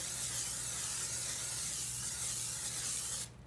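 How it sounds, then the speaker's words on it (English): Cooking spray hisses steadily from an aerosol can into a casserole dish, one continuous close, loud spray that cuts off sharply near the end. "spray your casserole dish with just a little cooking spray"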